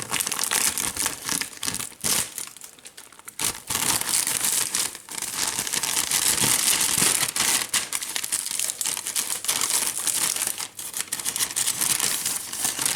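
A Chinese Type 9 single-meal ration bag is torn open across the top, giving dense, close crinkling and ripping of packaging with brief pauses, loud and continuous, no talking.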